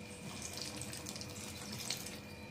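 Water from a tap pours steadily into a pan of stuffed eggplant curry (gutti vankaya) as it cooks, a constant close splashing rush with no talk.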